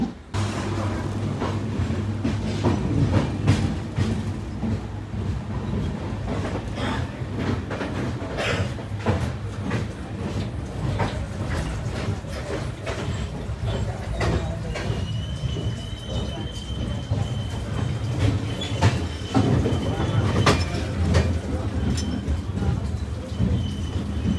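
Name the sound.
moving train from Trivandrum to Chennai, heard inside the coach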